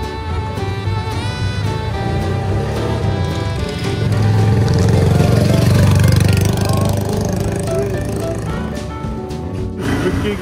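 A repaired motorcycle engine runs at a two-wheeler market in Balooganj, Agra, humming steadily with a louder, rougher swell midway amid background street noise.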